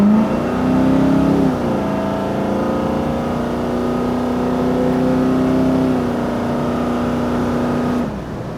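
A big 1968 Chevrolet Camaro engine idles with a deep steady rumble that rises briefly, then settles into a loud, even throb before tapering off near the end.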